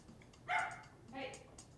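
A dog gives two short, faint barks a moment apart at a quiet indoor gathering, with soft background noise around them.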